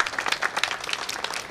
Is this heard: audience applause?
yes